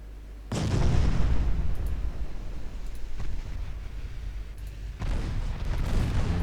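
Battlecruiser main guns fire in a naval battle in Ultimate Admiral Dreadnoughts, with a heavy boom at the start that rolls into a long, loud rumble, then a second burst of booming near the end.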